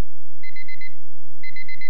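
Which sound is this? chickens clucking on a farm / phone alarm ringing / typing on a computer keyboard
phone alarm ringing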